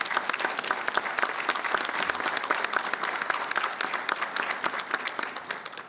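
Sustained applause from a large audience at a Rotary Club address in a Sheraton Hotel ballroom, dense steady clapping filling the room for about six seconds at an even level.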